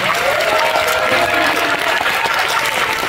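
A cinema audience applauds at a film screening with a post-show talk, a steady wash of many hands clapping throughout, while a faint voice briefly carries underneath.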